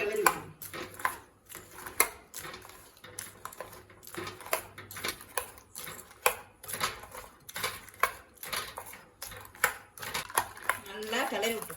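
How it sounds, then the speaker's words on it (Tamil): Amla jam cooked with jaggery is stirred in a pan on the stove, with a quick, uneven rhythm of spoon clinks and scrapes against the metal, close and fairly loud. "நல்லா கிளறி விட்டுருங்க"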